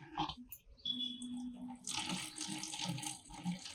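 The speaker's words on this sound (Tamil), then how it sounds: "நான் பாட்டில ஊத்திட்டு நான் உங்களுக்கு காமிக்கிறேன்." Phenyl floor-cleaning liquid pours into a bottle in a steady splashing stream, starting after a few small clinks and drips, continuing strongly to the end without any talk.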